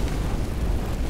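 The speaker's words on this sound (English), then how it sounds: "Throwing a Molotov." A Molotov cocktail bursts into flame in Left 4 Dead, a short, dense roaring whoosh of fire that stays loud and even for about a second.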